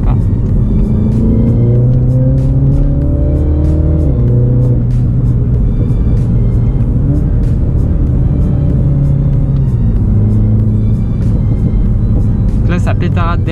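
Mini John Cooper Works F56 heard from inside while driving, a loud steady engine and exhaust drone that rises and falls with gear changes over continuous road rumble, with a voice talking over it.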